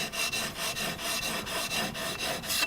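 Okatsune pruning shears sharpened on a 600 grit stone: steady, rhythmic rasping strokes, about ten in under three seconds, close and fairly loud with no voices.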